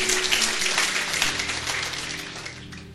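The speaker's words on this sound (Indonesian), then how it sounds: "Kita beri tepuk tangan, saudara." Applause from a church congregation during a sermon, a steady wash of many hands clapping that slowly fades over a few seconds.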